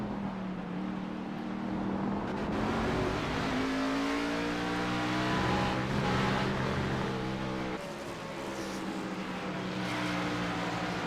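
Onboard the engine of a stock race car at Road America is heard continuously, with a steady tonal drone that climbs and falls through gear changes and throttle lifts, loud and close throughout.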